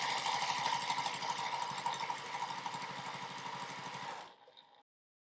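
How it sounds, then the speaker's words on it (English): Domestic sewing machine running steadily while stitching a quarter-inch seam through nested quilt fabric patches, a fast even motor whir with rhythmic needle pulses that runs alone for about four seconds before stopping abruptly. "And then I'll just sew a 1/4 inch seam across there."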